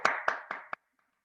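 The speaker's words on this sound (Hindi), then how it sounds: "सभी के लिए एक बार जोरदार तालियां।" Four sharp hand claps from webinar participants, evenly spaced and close, ending abruptly into silence.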